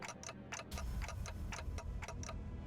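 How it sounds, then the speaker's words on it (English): Steady clock-like ticking from the video game Limbus Company, a close, regular series of sharp ticks over a low background hum. "It's ticking faster, so I guess they can still feel pain."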